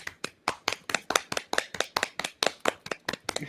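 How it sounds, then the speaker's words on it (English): Sparse, evenly spaced hand claps from one or a few people, about fifteen sharp slaps over a few seconds, close and fairly loud with no talking. "everybody in the chat, clap for Julie."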